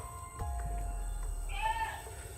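A single short animal bleat sounds faintly near the end over low background rumble and a quiet hum.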